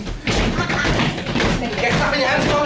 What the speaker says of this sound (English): Get stamping up for me, please, Jeff.